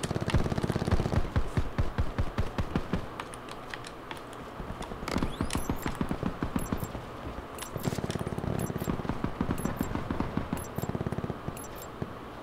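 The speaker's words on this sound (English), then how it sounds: "I hear gunshots everywhere, but I don't see a single person." Rapid bursts of gunfire crackle in dense, repeated volleys with sharp individual shots between them, loud and continuous throughout, in the video game Call of Duty: Black Ops 4 Blackout mode.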